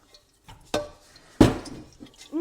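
A large metal cooking pot and its lid clank in a home kitchen during Eid cooking, with two sharp separate knocks and softer scrapes between them in an otherwise quiet room.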